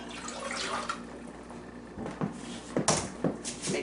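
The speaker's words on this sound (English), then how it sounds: "So we're going to put the water in the pan." Water splashes and trickles steadily into a pan for cooking brown rice, with a few louder clinks and sloshes near the end.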